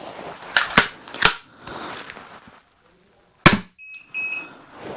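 A crossbow fitted with Stinger 130 lb limbs fires with a single sharp, loud snap, preceded by a few clattering knocks and followed by short electronic beeps.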